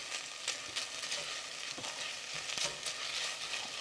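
Minced ginger frying in a pan, a steady close crackling sizzle punctuated by scattered pops and light scraping stirs, no voices.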